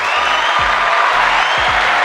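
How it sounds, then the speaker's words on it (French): Studio audience applause during a weekly Guadeloupe chat show, a steady, dense patter of clapping that holds at full strength for about two seconds without pause. "je pense que ça mérite des applaudissements quand même"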